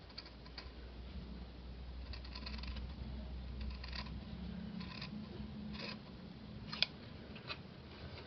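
Scissors snip a tiny piece off felt in a quiet craft setting, with soft, faint, sporadic cutting clicks close up and no talking.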